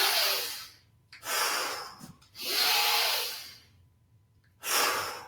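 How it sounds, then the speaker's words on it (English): Calming breathing exercise: slow, deep, audible breaths close to the microphone, with four long airy exhalations in a steady rhythm and quiet gaps between them. "You need this breathing."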